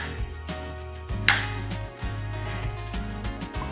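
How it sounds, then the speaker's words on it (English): A vegetable knife chops Spam on a cutting board in a quick series of close, firm thuds, the blade striking the board about every half second, with one brighter clack partway through and no voices. "While I'm cutting the Spam"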